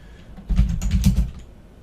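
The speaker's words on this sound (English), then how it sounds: "So I'm going to type in" A burst of fast typing on a computer keyboard while entering a building maintenance work order, close, crisp key clicks lasting about a second between quiet moments.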